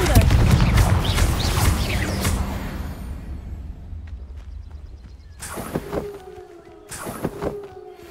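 A Confringo explosive spell cast in the Hogwarts Legacy video game: a loud, dense fiery blast that roars and slowly fades over a few seconds, followed by two shorter sharp bursts with ringing magical tones.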